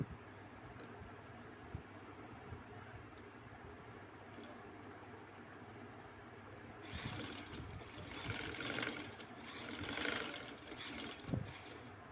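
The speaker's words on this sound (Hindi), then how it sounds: "अब हम इस जगह को भी सिलाई लगा देंगे।" A sewing machine runs in bursts while stitching a skirt, a steady mechanical whir that swells louder partway through over a low background hum, with no talking.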